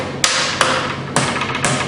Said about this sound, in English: using the brass hammer to form the metal